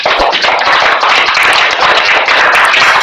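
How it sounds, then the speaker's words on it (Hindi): Audience at a motivational stress-relief session clapping together ten times on cue, a dense, loud burst of rapid claps filling the whole moment with no voices. "10 की ताली बजाएं"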